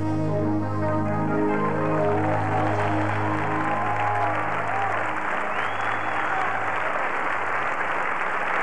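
An audience at a church friendship celebration applauds steadily, a dense wash of clapping that holds level from start to finish.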